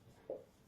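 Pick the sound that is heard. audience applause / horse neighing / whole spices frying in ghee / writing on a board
writing on a board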